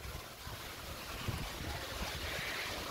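Steady wind gusting across the microphone at a Vietnamese stork garden, a broad continuous rush with low buffeting rumble that swells slightly toward the end, alone with no talk.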